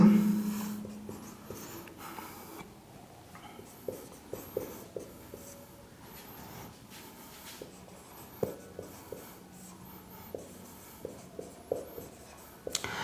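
Chalk or marker taps and scratches against a board as short, crisp strokes come in scattered bursts, close and fairly quiet, against a faint room hum with no talk.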